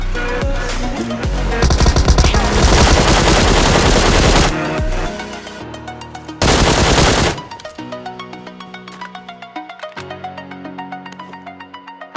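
Bursts of loud automatic gunfire from PUBG, with a second short volley after a brief gap, then a rhythmic music track with repeating tonal notes takes over.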